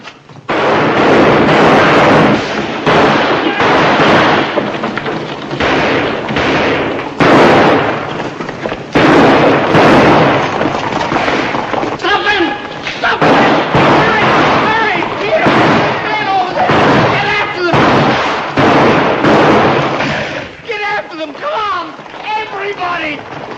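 Gunshots fired down a street in a Western film, sharp bursts scattered through a loud, busy soundtrack with voices talking over and between the shots.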